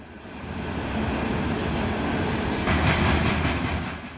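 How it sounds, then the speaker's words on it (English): A coal freight train rumbles past nearby in Colorado, a steady heavy roar with a faint rhythmic clatter of wheels over the tracks, building slightly before easing off. "Coal is delivered to the power plant from the mine by freight trains."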